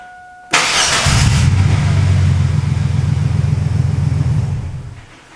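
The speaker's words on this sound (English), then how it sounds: "So as you can see, it turned right over." Chevrolet 4-liter V6 cranks briefly after a jump start, then catches and settles into a loud, steady idle close by that slowly fades out.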